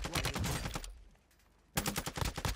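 Rapid video game gunfire cracks in dense automatic bursts while shooting down an enemy, then a brief lull, then the close, loud firing resumes.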